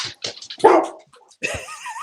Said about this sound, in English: Now that's a dog, Wood.